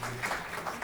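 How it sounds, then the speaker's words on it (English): An audience claps at a corporate education talk in a brief, dense burst of steady applause. "Please give him a big round of applause, please."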